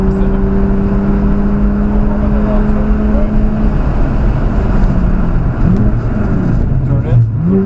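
BMW car accelerating around High Plains Raceway during a track session, a loud steady engine drone with rising pitch sweeps as revs climb, close and continuous, with a driver talking over it.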